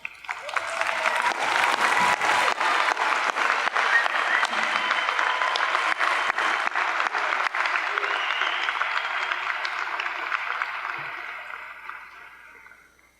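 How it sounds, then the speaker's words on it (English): Sustained applause from a crowd at a winter commencement ceremony, loud and steady across the hall for about twelve seconds before tapering off at the end. "give them a well-deserved round of applause"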